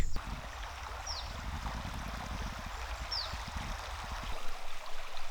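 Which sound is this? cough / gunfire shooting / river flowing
river flowing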